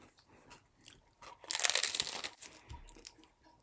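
A single loud crunchy bite into a Taco Bell crunchy chicken taco supreme, crisp shell cracking sharply up close, followed by quieter chewing crunches.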